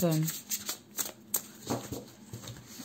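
Tarot cards are spread and laid out on a table during a reading, giving soft papery slides and taps amid nearby talk.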